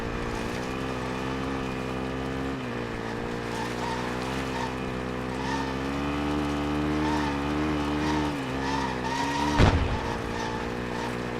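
A car in Call of Duty Warzone on PS5 drives through Verdansk, its engine droning steadily and loudly throughout, with a brief skid or impact burst near the end.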